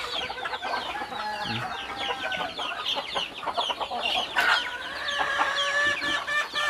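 Native Bisaya chickens on a pig farm cluck and chatter constantly at close range, with overlapping calls and a brief crow-like cry among the flock.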